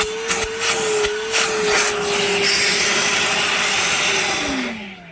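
Milwaukee Fuel wet/dry vacuum cleaner running on its highest setting, a loud, steady whining roar close by with a few knocks at the start, then the motor spinning down at the end.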